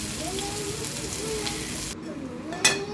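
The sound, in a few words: sesame fritters frying in oil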